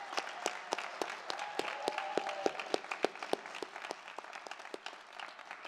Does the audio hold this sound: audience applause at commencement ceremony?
yes